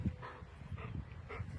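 A dog gives three short, evenly spaced barks or yips at close range against a low background murmur.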